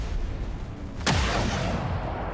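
A single sharp gunshot from a soldier's regular shot in XCOM 2: War of the Chosen cracks loudly over a dense rumbling game background and leaves a fading tail, with no voices.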